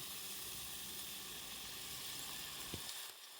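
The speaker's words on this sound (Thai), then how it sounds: "พอเราผัดหมูได้ที่แล้วนะคะเราก็ใส่น้ำปลาค่ะ" Pork sizzles steadily in a pan as fish sauce is poured in for a Chanthaburi-style pork and pineapple shoot curry, a loud continuous frying hiss with a brief splash near the end and no talk.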